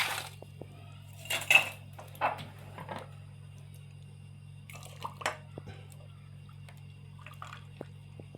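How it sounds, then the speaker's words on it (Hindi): Ice cubes clatter into a glass while a mint peach milkshake is being made, giving a few sharp clinks and rattles in the first three seconds, then scattered lighter taps over a steady background hum. "ये आइस डाल दी मैंने इसमें।"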